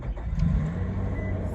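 A car engine runs close by with a low, steady rumble throughout the brief moment, as someone prepares to go add fuel.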